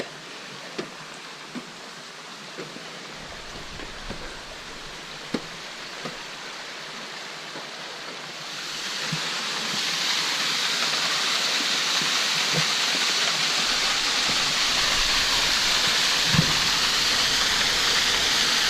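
Crater Falls waterfall on the Overland Track, a steady broadband rush of running water among moss-covered trees that grows noticeably louder and fuller about halfway through, with faint small clicks and no talking.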